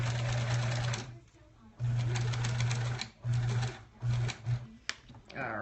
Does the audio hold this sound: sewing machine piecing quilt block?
yes